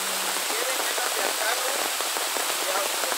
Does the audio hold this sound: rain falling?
yes